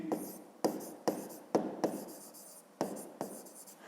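Handwriting strokes of a pen or pencil on paper while a fifth-grade math exercise is solved, several close scratchy bursts of a fraction of a second each, separated by short pauses, with no voices.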